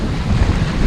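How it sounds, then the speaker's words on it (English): Strong wind blows over open water during a windy day of kayak fishing, a steady, loud roar with low buffeting rumbles across the mic and no voices. "it's pretty windy"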